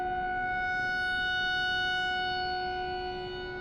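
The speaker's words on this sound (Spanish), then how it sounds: "Creo que es la sirena, y creo que viene desde la torre que está aquí al lado." A siren wails from a nearby tower, a sustained steady tone with layered harmonics that holds level and then starts to fade slightly toward the end, with no voices over it.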